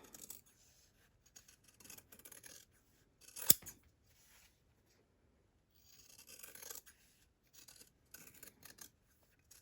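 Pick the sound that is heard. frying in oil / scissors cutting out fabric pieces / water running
scissors cutting out fabric pieces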